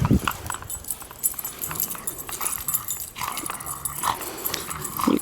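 Brother and sister dog pups wrestle and play in blizzard snow, with scuffling, padding movement and occasional yips and whimpers close by, a voice faintly mixed in.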